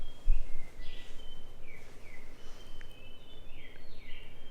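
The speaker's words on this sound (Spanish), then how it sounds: "no saben el sonido de los pajaritos, qué cosa tan hermosa" Birds singing at dawn outside a luxury bubble hotel in Cancún, several clear chirps and whistled calls repeating from a short distance over a soft hum of insects, with no talking.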